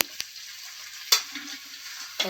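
Gongura leaves being fried in a kadai for Andhra gongura pickle, a soft steady sizzle close by with a few sharp clicks of a utensil against the pan.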